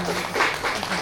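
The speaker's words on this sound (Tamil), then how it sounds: "கொஞ்சம் பலத்த கரகோஷமாக" Brief burst of audience clapping at a Navaratri lamp puja gathering in Sulur, a short dense patter over a low hum.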